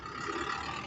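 Farm tractor engine running steadily up close, a loud continuous rumbling drone with no pauses, heard in a rural southern Laos village.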